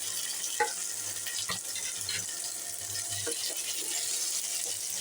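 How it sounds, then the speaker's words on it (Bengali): Pre-fried potatoes tumble into a pan of sizzling masala for aloo dum, with a steady close hiss broken by a few soft clatters and scrapes as they are stirred. "এবার আমি এর মধ্যে আগে থেকে ভেজে রাখা আলুগুলো ঢেলে দেবো।"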